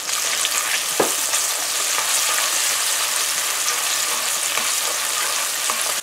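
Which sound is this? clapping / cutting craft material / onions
onions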